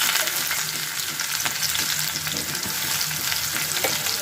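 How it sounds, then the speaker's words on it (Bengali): Chopped onion drops into hot oil and fries with a dense, even sizzle and crackle, close and steady for a few seconds, with no talking. "দিয়ে দিলাম তেল, তেল গরম হয়ে গেছে, দিয়ে দিচ্ছি কুচনো পেঁয়াজ"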